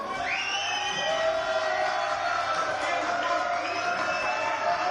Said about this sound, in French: vous applaudissez à tout rompre